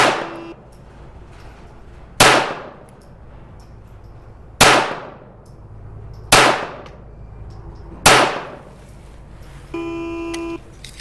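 Five sharp rifle shots from a Kadet rifle ring out at roughly two-second intervals during timed rapid fire on a shooting range firing line, followed by a short electronic beep.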